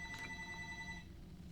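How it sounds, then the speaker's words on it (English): A telephone rings faintly in the background of a quiet indoor room, one short electronic ring pattern with steady tones that stops partway through. "if you can hear that phone in the background, I'm very sorry"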